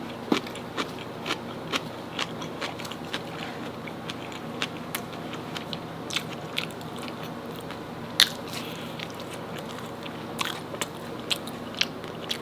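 Crunchy pickles bitten into with a homemade Five Guys-style burger meal, repeated crisp snaps and crunches at close range over a steady chewing background, one bite standing out louder near the middle.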